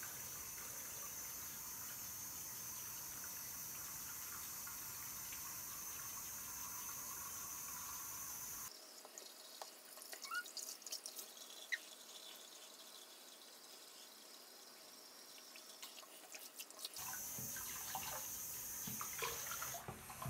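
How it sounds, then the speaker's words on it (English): Warm tap water runs steadily into a sink in a home bathroom, a continuous hissing stream with a brief softer, thinner stretch midway before the full flow returns. "I just wipe it off with some warm water"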